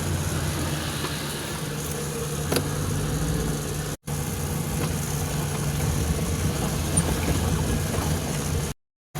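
A car engine hums steadily from behind on a road, a low continuous rumble with road noise, fairly faint and unbroken apart from a momentary dropout.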